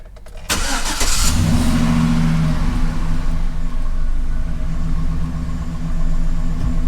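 A truck engine cranks and catches with a sharp burst, then settles into a loud, steady idle rumble that runs close and alone for several seconds.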